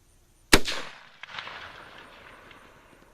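A single sharp report from a Spanish Mauser Model 1893 long rifle cracks out loud and close, followed by a lingering outdoor echo and a second faint thump as it decays.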